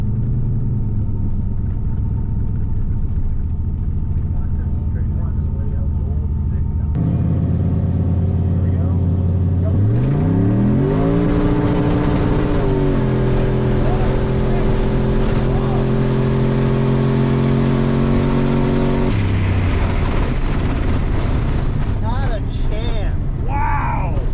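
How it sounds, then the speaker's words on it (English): Drag race on ice against a red four-wheel-drive turbo Silverado truck: a loud engine roars under constant wind and cabin rumble, revving in rising gear sweeps, holding high, then dropping off as the run ends. "We're racing a red all-wheel drive, or 4-wheel drive Silverado with the turbo."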